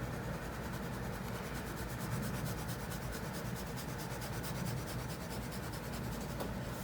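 Pencil shading a nose drawing on paper, a soft steady scratchy rubbing that continues evenly and close up throughout, with no talking.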